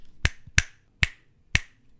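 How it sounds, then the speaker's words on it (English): Four crisp finger snaps come at an uneven rhythm, close and dry in a quiet room during an audiobook recording, each one a short sharp crack. "finger snap mistakes that you can find and see before editing your entire audio recording"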